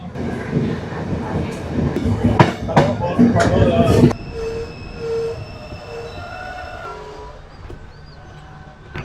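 Yal Devi express train on the Jaffna to Colombo line in Sri Lanka rumbling past with loud clattering wheel beats, then high sustained squealing tones as the noise eases and fades; faint voices underneath.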